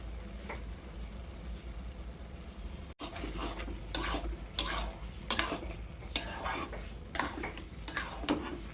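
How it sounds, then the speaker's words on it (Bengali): Ash gourd and shrimp being stirred in a frying pan: a steady low sizzle, then from about three seconds a run of scraping strokes against the pan at an uneven rhythm, close and fairly loud. "মিনিমাম দশ মিনিট এইভাবে চিংড়ি মাছের সাথে চাল কুমড়া রান্না করে নিব"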